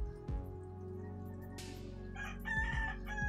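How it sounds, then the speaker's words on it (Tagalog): A rooster crows twice in the background, fairly faint, over a low steady hum and some clattering, at night by the coast in the Philippines. "Yon, manok uli."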